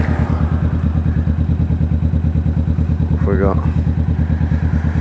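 A Kawasaki Vulcan S 650 fitted with a Two Brothers exhaust rumbles close and loud, its low pulsing engine note holding steady in fifth gear, with a rider's brief spoken words over it.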